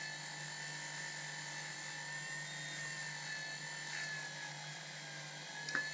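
A rotary handpiece fitted with a mandrel polishes a domed metal locket, giving a steady, close, high-pitched whine that runs unbroken throughout, with a slight rattle near the end.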